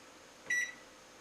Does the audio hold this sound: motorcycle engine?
no